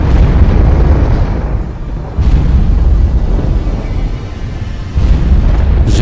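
A deep rumbling explosion effect for a giant black hole eruption between galaxies, rolling low-end booms in continuous loud waves, with two fresh surges that build and then ease.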